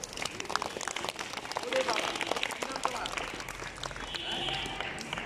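A class of children clap loudly together in a classroom, a dense burst of applause rising and then sustained across several seconds, with an adult voice and chatter mixed in.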